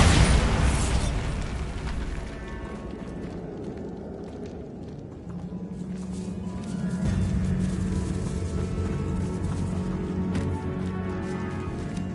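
A Bombarda spell explosion in the video game Hogwarts Legacy: a loud booming blast at the start that decays into rumbling debris, followed by a sustained low mechanical drone.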